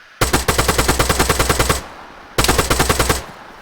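Rapid automatic gunfire in a video game fight at a gas station comes in two loud, close bursts: a long string of evenly spaced shots, a short pause, then a shorter burst.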